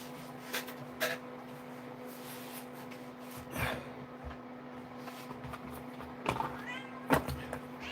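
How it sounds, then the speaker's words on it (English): A pet cat meows a few times indoors, short separate cries spaced across the moment, moderately near over a steady background hum, with no talking. "Here's the cat."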